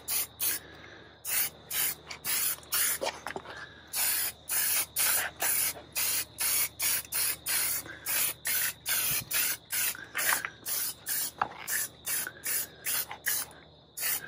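Compressed air is sprayed on a 2007 Harley Davidson Nightrain motorcycle during detailing, as a series of sharp, loud hissing bursts in quick regular succession with short gaps between them, close up and with no speech.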